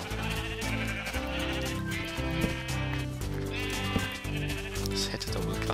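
Sheep bleating in the video game Minecraft, heard over continuous loud background music throughout.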